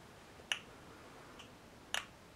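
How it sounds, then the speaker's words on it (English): A homemade Geiger counter picks up background radiation, giving two faint, sharp clicks about a second and a half apart. They are irregular and isolated, over quiet hiss. "Now you can hear some clicks that are being created by background radiation."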